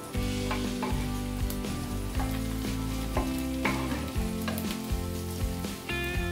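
Onion, leek and carrot frying in a pan give a steady close sizzle, with a few clinks and stirring scrapes over it and no talking.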